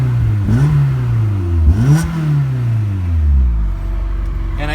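A 2001 Honda S2000 AP1 with 113K miles, a 9000 rpm redline and a deep exhaust rumble, parked with the brake on. Its engine is blipped twice in sharp rising revs that fall back to a steady idle, close up.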